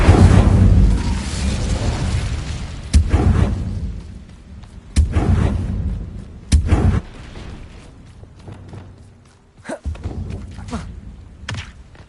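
Incendio fire spells cast in Hogwarts Legacy burst out as several loud, booming thuds, spaced a second or two apart, each with a short crackling tail. No voices are heard.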